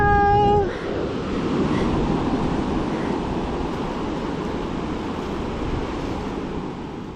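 Ocean surf and swirling rip-tide water churning around deep pools, a steady broad wash of waves and wind noise that fills the whole clip after a brief tonal sound at the start.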